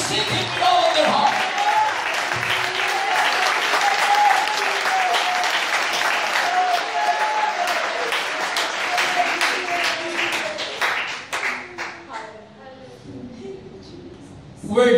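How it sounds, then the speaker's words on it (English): A church congregation claps hands together in a dense, sustained burst of applause that carries on for over ten seconds before thinning out, with voices speaking and singing through it. "Clap your hands to the Lord."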